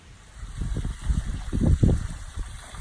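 A Polaris 9550 robotic pool cleaner being set back into a swimming pool, with a soft, low sloshing and churning of water that swells and fades over a few seconds under a steady background hiss.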